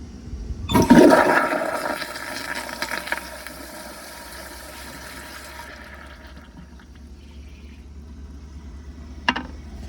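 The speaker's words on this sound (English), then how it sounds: "Close up flush." An American Standard Cadet pressure-assist toilet flushes up close with a loud sudden whoosh that fades into a long quieter refill hiss, ending with a brief sharp click.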